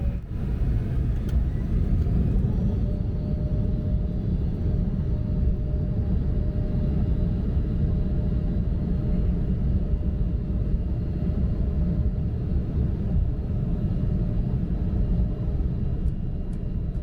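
A steady, loud rumbling drone of cabin noise fills an Air Canada Express Embraer E175 jet in flight, unbroken and constant throughout.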